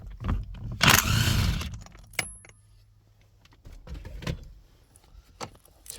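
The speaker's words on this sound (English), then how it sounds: "So go ahead and break that bolt loose." Removing the 24mm steering wheel bolt on a Ford Explorer brings a few metallic clanks and ratchet clicks around a burst of broadband noise, then scattered knocks and rattles at moderate level, with no talking.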